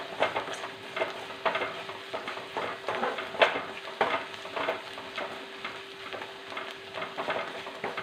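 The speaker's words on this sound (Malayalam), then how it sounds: "ഇത് ചെറുതായിട്ടൊന്ന് വഴന്ന് വട്ടെ ഈ പിന്നെ കുരുമുളകിൻ്റെയും വെളുത്തുള്ളിയുടെ ആ കുത്തൽ മാറണമല്ലോ" Crushed pepper and garlic saute in a pan for homemade rasam, sizzling close and moderately loud while a spoon scrapes and stirs in a fairly steady rhythm.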